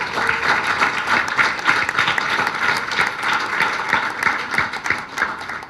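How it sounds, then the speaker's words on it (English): An audience at a book launch for Hema Malini's biography applauds loudly and continuously, dense overlapping claps from a large crowd filling the hall without letup, and no voices rise above it. "you guys can do a better job with the applause"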